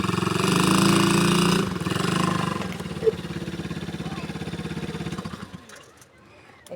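A two-wheeler engine labours and strains to pull, a loud droning rumble that wavers and fades toward the end, with people talking over it.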